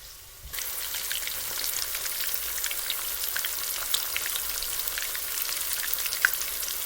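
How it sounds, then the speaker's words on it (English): Cube steak sears in a hot pan with a steady, dense sizzle and crackle that starts abruptly and holds at an even level, with occasional sharper pops of spattering fat. "Cube steak is now searing."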